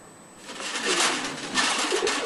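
Pigeons at a pigeon farm in Gazipur coo in soft, overlapping throaty calls, close and steady throughout the short stretch, with no people speaking.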